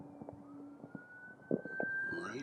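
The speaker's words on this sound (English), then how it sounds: "All right, hearing sirens," A siren wails in the distance on the Fourth of July in California, a steady high tone rising slightly, with scattered fireworks pops and background noise around it.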